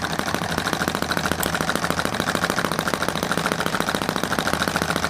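An M96 engine running with a steady, rapid mechanical pulsing at a moderate distance, an even idle-like drone throughout without any talking.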